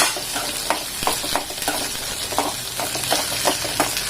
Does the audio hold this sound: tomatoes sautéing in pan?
yes